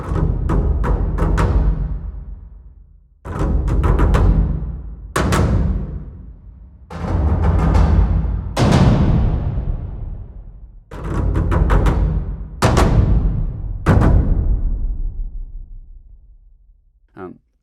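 Big booming percussion hits land one after another, each a heavy cinematic downbeat with a long ringing decay, played alone with no talking.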